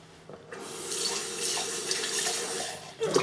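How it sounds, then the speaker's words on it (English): Tap water runs steadily into a sink while a jug is rinsed out, a continuous close splashing rush that swells and shifts, with a brief clunk near the end. "Wash out the jug because I'll need it for the rhubarb as well"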